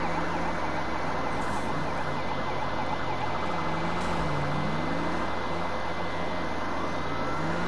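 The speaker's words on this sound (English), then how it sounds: "I've got three police cars on me at once." Several police car sirens wail together in the Need for Speed 2015 racing game, rising and falling tones weaving over a constant engine and road roar during a pursuit, with no talking.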